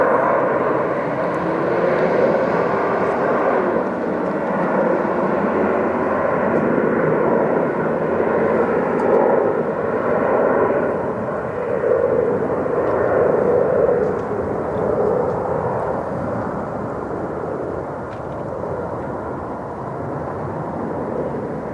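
An airplane takes off from runway 25 right at Phoenix airport, its engines a steady broad roar from start to finish, loud and sustained throughout, with a faint whine above and no voices.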